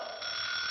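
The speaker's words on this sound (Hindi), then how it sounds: "अरे सुबह सुबह ये अलार्म क्यों बजने लगा?" A cartoon alarm clock rings in a bright, shrill continuous tone, loud and close, sustained without a break and with no talking over it.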